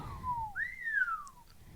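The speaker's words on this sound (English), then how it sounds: "we whistled at the same time" Two people whistle at once, clear gliding tones that dip and then rise and fall again over under two seconds, close and fairly loud with no talking.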